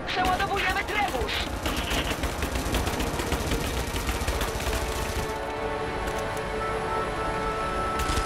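Rapid bursts of automatic gunfire in the video game Rise of the Tomb Raider rattle continuously, dense and loud, with a brief lull near the end before more shots.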